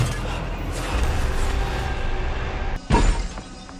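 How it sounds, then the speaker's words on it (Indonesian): A car window being smashed with great force in a rescue scene, a dense shattering crash with a sharp burst of breaking glass near the end, over a steady background rumble. "Sekuat tenaga, Ade menghancurkan kaca mobil untuk mendekati Lele."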